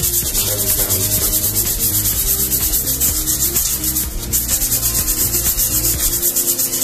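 Motorcycle helmet, a red matte Yamaha MAXI being repainted, sanded and polished with a power polishing tool, a loud, steady, close whirring rub with a rhythmic pulsing texture that runs throughout without pause.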